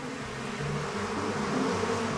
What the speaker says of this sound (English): this is a nest of the infamous killer bees